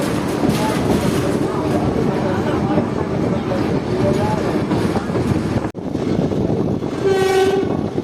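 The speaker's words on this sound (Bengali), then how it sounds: "আমাদের ট্রেন এখন ক্রস করছে মথুরাপুর রেলওয়ে স্টেশন।" A passenger train, the Puri Patna Weekly Express, rolls steadily past Mathurapur station with a loud continuous rumble heard from inside the coach. A horn sounds near the end while someone talks over the noise.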